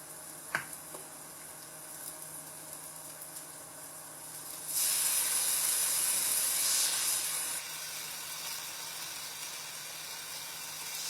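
Soy sauce poured onto scallops in a hot pan, bursting into a loud, steady sizzle and hiss that holds for a few seconds, then eases to a softer ongoing fry.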